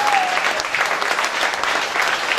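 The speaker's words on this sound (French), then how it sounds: "Nous applaudissons le Seigneur comme des vivants qui applaudissent un Jésus vivant." A church congregation in Douala claps together in praise, a steady, moderately distant patter of many hands filling the space evenly with no break.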